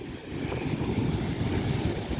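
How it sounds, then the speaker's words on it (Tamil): Sea waves wash onto a beach as a continuous broad rushing roar mixed with wind buffeting the microphone, steady and fairly loud with no voices. "எவ்வளோ தண்ணி நம்ம பீச்சில் பாருங்கள், பெரிய அளவு வருது"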